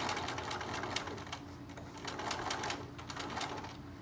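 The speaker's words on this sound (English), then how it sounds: "I'm not pushing or pulling, I'm just letting the fabric glide through." A sewing machine stitches zipper-case fabric and lining, its needle hammering in a steady, fast rhythm at close range with slight swells in speed and no talk.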